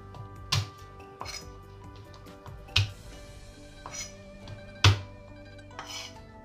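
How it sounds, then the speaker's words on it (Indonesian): Shallots are smashed on a cutting board for a cauliflower dish. Three distinct heavy thumps land a couple of seconds apart, each with a sharp crack, and a few lighter knocks fall between them over a quiet kitchen hum. "Geprek juga bawang merah."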